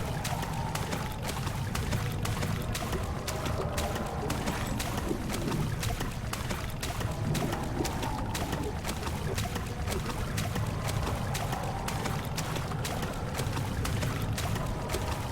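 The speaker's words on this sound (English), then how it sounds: "We put a bunch of water in there." Water pours steadily into a machine in Amnesia: The Dark Descent, a continuous rushing, splashing flow that holds at an even level from start to finish, with no voices over it.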